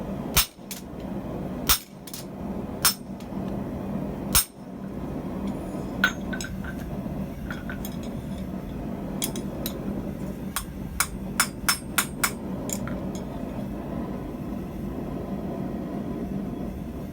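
Hammer strikes texturing the flat side jaw of box-jaw forging tongs made to hold 2-inch wide, half-inch thick Damascus billets; sharp ringing metal blows come irregularly, a few spaced early and a quicker cluster later, over steady shop hum.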